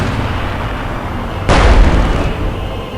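A single heavy artillery blast from Company of Heroes 2 gameplay erupts mid-battle, loud and sudden, then rumbles away over steady low battlefield ambience.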